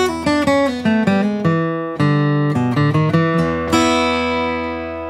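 Acoustic guitar plays a blues ending tag: a quick run of plucked notes that slows and rings out over about five seconds, clear and up close with no talking.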